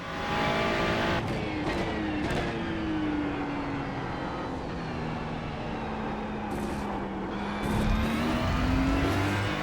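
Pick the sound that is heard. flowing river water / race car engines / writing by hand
race car engines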